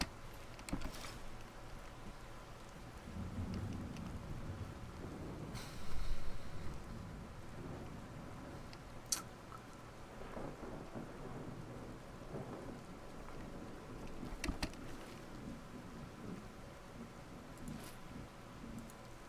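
Steady rain and rolling thunder in the video game Skyrim, with a continuous wash of rainfall and several low thunder rumbles and cracks spread through, moderately loud, no talking.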